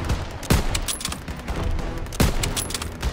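Heavy gunfire in a Call of Duty battle, with dense overlapping shots and machine-gun bursts that swell in two louder volleys, close and continuous.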